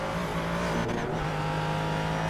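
A race car engine in a Sebring sports-car racing video game, a Corvette running just ahead, with a loud steady engine drone close up and a brief shift in pitch, no talking.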